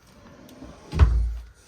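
A single wooden dresser drawer in a toy hauler trailer slides with a short, solid thump and rumble, close by, followed by quiet.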